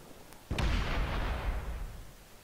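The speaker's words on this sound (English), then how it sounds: "Nuclear bomb." A nuclear bomb detonates in the video game Space Engineers, a sudden deep boom followed by a heavy rumbling roar that slowly fades over two seconds, loud and close with no talk.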